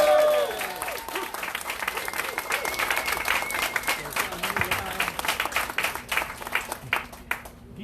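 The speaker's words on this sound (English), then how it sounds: "Let's give Donald J." Audience applause for Donald J. Trump at an office grand opening, sustained clapping from a crowd with voices mixed in, fading out near the end.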